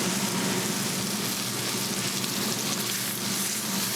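A filet mignon steak sears in a hot pan, its side browning, with a steady, close, loud sizzle that holds without a break throughout.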